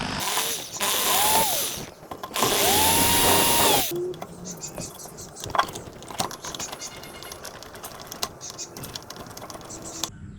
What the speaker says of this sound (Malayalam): സ്വിച്ചിന് സ്ക്രൂ ഇട്ട് കൊടുക്കാം.